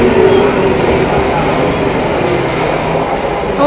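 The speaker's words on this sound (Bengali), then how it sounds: "ট্রেন চললো।" A passenger train pulls out of a station, a loud, steady rumble of wheels and carriages running unbroken for a few seconds, with no clear speech over it.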